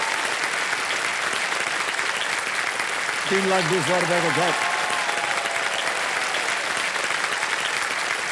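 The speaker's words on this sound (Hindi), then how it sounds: "एक बार जोरदार तालियां बज जाएं" A studio audience on the KBC game show applauds loudly for a contestant's winnings, a dense, sustained wash of clapping throughout, with a host's voice speaking over it briefly in the middle.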